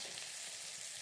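Onions with homemade ginger garlic paste fry in a hot pan, giving a continuous, dense hiss and sizzle at close range with no talking.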